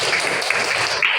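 Short burst of classroom applause as students clap together for a classmate's correct answer, a dense steady patter lasting about a second.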